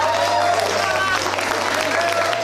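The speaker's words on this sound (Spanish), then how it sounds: "Se merecen un aplauso." Applause from the cast and crew gathered at the wrap of a telenovela shoot, a continuous clapping texture with some crowd murmur and voices mixed in.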